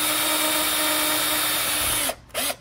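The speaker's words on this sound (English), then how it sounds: "I'm using a slightly big drill for a number six screw." An electric drill whines steadily as it bores a pilot hole in wood for a number six screw, running close and continuous, then it stops and briefly spins up again.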